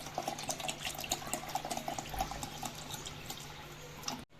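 Cold water poured into a drink mixture for homemade summer sherbet in a kitchen, a steady close splashing trickle with small drips running for about four seconds, no voices.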